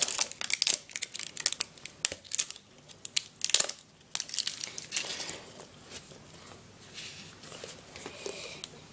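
Foil wrapper peeled off a Mario Kart surprise egg, loud close crinkling and crumpling in bursts that settle into softer rustles, no speech.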